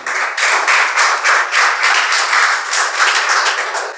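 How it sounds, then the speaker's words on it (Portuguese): Congregation applauding during a church service, a dense rhythmic burst of clapping with slight pulsing swells, fairly loud and close, without talk. "você pode aplaudir o Senhor nesta noite."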